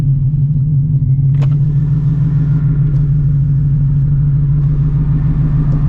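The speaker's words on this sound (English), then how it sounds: "Downshifts feel amazing." A 900-horsepower Shelby GT350 with a new clutch drones loudly and steadily from inside the car, a deep, constant engine rumble with no voices over it.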